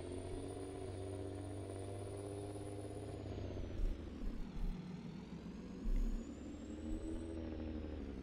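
A powerful pickup truck engine in Farming Simulator 22 holds a steady, throaty drone with a high whine, rising and dipping slightly as it revs, with a few low thumps along the way; no one talks.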